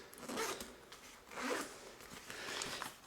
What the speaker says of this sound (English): unzip this.